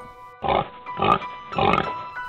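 Pig grunts voiced for a pig character in a children's educational program, three separate drawn-out snorting grunts with short pauses between them, close and clear with no other talking.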